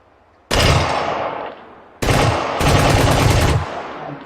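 Rapid automatic gunfire from a VR shooting game rattles out in two loud, close bursts, the first short and fading, the second longer and sustained before cutting off.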